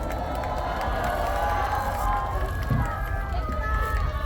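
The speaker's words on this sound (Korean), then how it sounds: "큰 박수 주세요" A large crowd at a political rally in Gwanghwamun, Seoul, roaring and cheering in a continuous wash of noise with mixed shouts, little distinct clapping audible.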